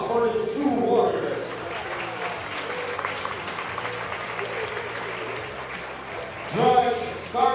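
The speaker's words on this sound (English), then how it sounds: "a round of applause for his 2 warriors" A boxing arena crowd claps and cheers after a professional bout, a sustained wash of applause with an announcer's voice over the start and end.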